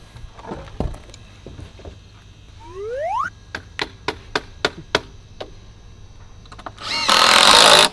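A power drill whirs up in a rising pitch, then a rapid series of short sharp bursts, ending in a loud grinding rush as the screw drives home into deck framing.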